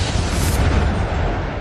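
A huge explosion whooshes through the Piper Alpha oil platform as a loud, sustained, rumbling roar with no break.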